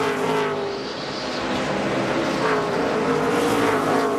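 Stock cars roar together at the 2005 Chevy American Revolution 400, a loud, steady massed engine drone with pitch sweeps as the pack passes close by.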